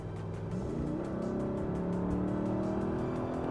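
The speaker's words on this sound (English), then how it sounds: "I love the sound of that V8." A Mercedes-Benz W210 E55 AMG V8 with about 210,000 km, running with a deep, steady rumble and a low engine drone that shifts slightly in pitch, close and continuous.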